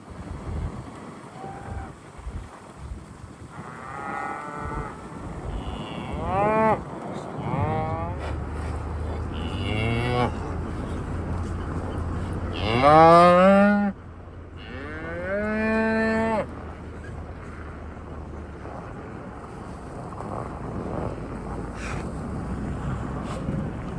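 Cattle moo repeatedly as cows come running on a cold day, several long, drawn-out calls, some close and loud, over steady wind noise and a low rumble outdoors.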